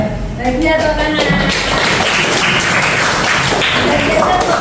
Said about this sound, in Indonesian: Bahagia tepuk tangan ya.